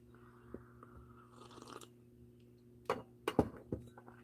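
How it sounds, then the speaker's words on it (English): Coffee being slurped and sipped during a morning live tarot-reading setup, a few close, soft wet sips and swallows in an otherwise quiet room with a steady low hum. "Slurping noises. I am drinking my coffee this morning as I set up."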